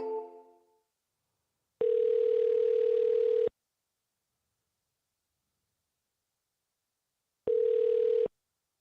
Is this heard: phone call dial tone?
yes